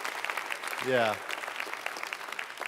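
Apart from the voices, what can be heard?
congregation applause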